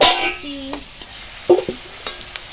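Potatoes and papaya sizzle in hot oil while a utensil scrapes and clatters against the pan a few times, close by.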